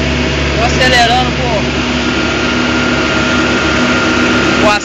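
A Caterpillar 12G motor grader's engine drones loud and steady while driving up an asphalt mountain road on manual throttle, someone talking over the constant rumble.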